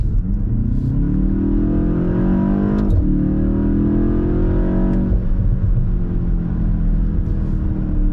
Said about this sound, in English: it's a 4-cylinder turbocharged engine and the sound is fine. I mean, listen to that, the sound is very fine.